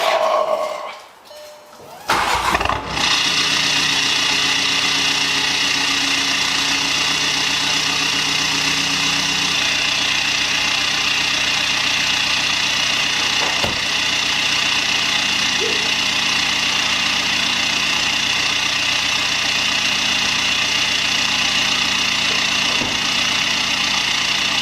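A 2015 Mk7 Volkswagen Golf TDI diesel with a stage 3 clutch, EGR delete and downpipe, running steadily on a test ride, a constant loud engine drone with road noise after a brief muffled thump at the start.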